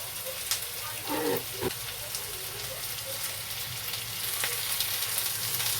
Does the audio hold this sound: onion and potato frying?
yes